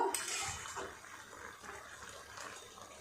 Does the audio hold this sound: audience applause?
no